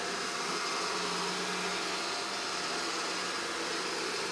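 An iRobot Roomba 671 robot vacuum runs with a steady, broadband whooshing hum from a nearby motor and brushes, even and unbroken, with no talk.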